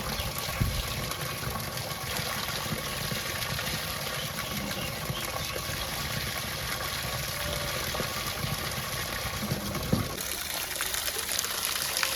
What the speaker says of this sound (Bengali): জল নেওয়া হয়ে গেছে